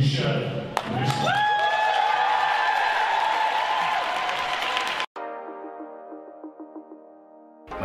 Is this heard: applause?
yes